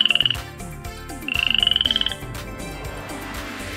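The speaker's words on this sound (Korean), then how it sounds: "이거 개구리네." A frog croaks loudly in a series of rapid, pulsing trills, two bursts clearly separated by a short gap, over a busy background of other tones.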